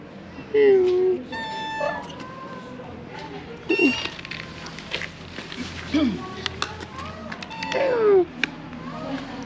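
A cat in the hilltop city of Mardin, Turkey, meows repeatedly, several distinct drawn-out meows spaced a couple of seconds apart, close and clear over outdoor street ambience with a person speaking.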